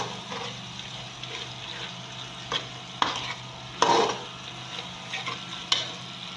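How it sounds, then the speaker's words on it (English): Seasoning cubes being stirred and dissolved for jollof rice, with soft scraping and clinking of a spoon against the pot and a few sharper taps, quiet and close with no talk. "I'm dissolving the seasoning cubes."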